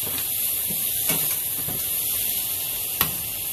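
Ice cubes hiss and steam in a hot pot of rice, a steady broadband spray-like sizzle with a couple of brief sharp crackles, close and moderately loud without speech.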